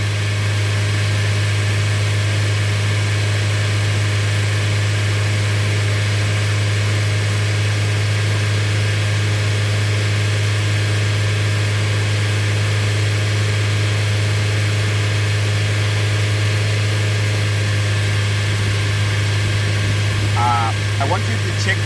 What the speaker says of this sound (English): the engine is idling